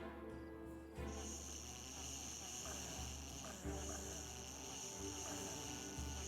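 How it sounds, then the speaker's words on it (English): Snoring in a quiet room: a few slow, low rumbling breaths that repeat at intervals, faint and close, under a steady hum. "Sorry for the snore sounds."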